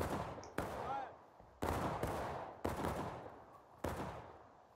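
Rifle volleys in the American Civil War shooter War Of Rights: four loud, broad massed blasts about a second apart, each trailing off into echoing rumble, with faint background commotion between them.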